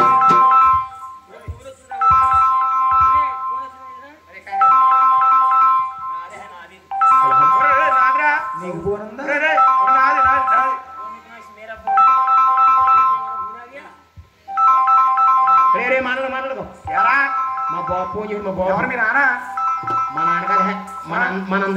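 A mobile phone plays its ringtone, a loud repeating melodic phrase that cycles several times, mixed with voices and background chatter at a community festival gathering.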